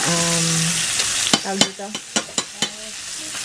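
Chicken fries in coconut oil with a bright, steady sizzle, broken by several sharp clacks of a utensil against the pan. A voice speaks briefly at the start.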